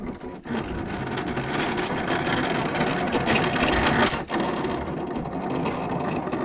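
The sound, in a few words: vinyl cutting machine cutting heat transfer vinyl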